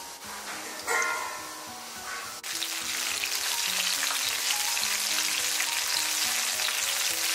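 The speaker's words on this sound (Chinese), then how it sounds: "然后一个一个给它夹入锅中，开中小火给它慢炸" Shiitake mushrooms deep-frying slowly over medium-low heat in reused oil, a dense, even sizzle that starts softer and swells into a loud crackle once more pieces go in, with soft background music and no talking.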